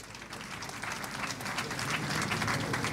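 Applause for a panelist at a panel discussion, a steady patter of clapping from a moderately distant audience that swells slightly and holds for about three seconds.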